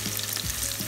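Grace sausages fry in a pot with a dense, close sizzling hiss and a brief stirring scrape.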